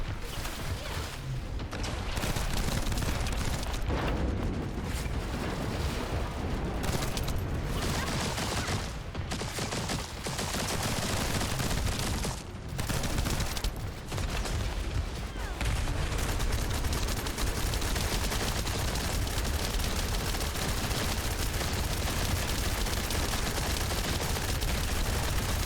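Sustained enemy gunfire in The First Descendant video game, dense, continuous rapid shots and bursts filling the whole stretch at steady loudness, with brief gaps early on and a faint voice underneath.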